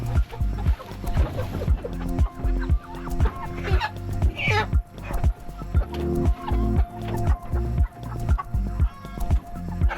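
Chickens cluck and squawk in a rapid, continuous rhythm at close range while being caught for the butcher, with repeated flapping and scuffling bursts and no talk.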